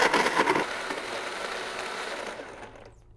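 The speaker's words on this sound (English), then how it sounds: "You want to use a high-powered blender so you can get everything to the soft consistency" A high-powered blender whirs loudly while blending a thick, creamy sauce, its motor noise steady and then winding down to silence at the end.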